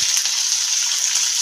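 Mushrooms sauté lightly in a hot pan for a chilli mushroom dish, giving a steady, close sizzle and crackle of frying with no voices.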